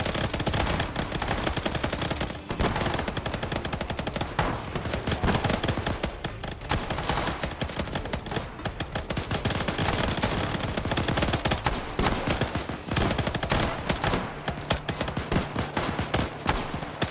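Dense, continuous gunfire from the video game Arma during an attack on a camp, rapid overlapping rifle and machine gun bursts filling the whole stretch, loud and close, with no voices.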